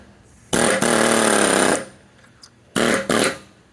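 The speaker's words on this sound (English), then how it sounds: "by just sticking the air hammer in there, you can feel where the middle of the bushing is" An air hammer rattles loudly in two bursts while driving out a Jeep YJ frame bushing, a long one of over a second and then a shorter one after a brief pause.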